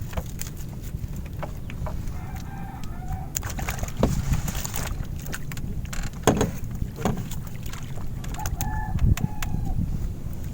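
Birds call with short tonal chirps and coos near a small fishing boat on open water during tilapia net-scooping at a fish trap, over a background of rumbling water and boat noise with sharp knocks.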